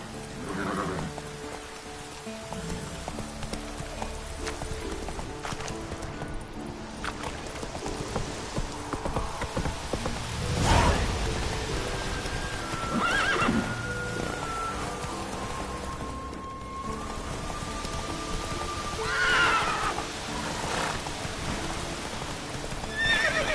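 Roach, Geralt's horse in The Witcher 3 video game, gallops with steady clip-clop hoofbeats and lets out several whinnying neighs, all over a constant patter of rain.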